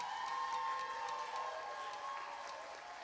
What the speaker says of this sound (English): Parents, let's give our kiddos one more round of applause.